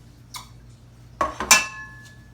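Michelangelo hammered cookware, including a small egg skillet, handled close by: a few sharp metallic clinks and clanks spaced over a couple of seconds in an otherwise quiet room.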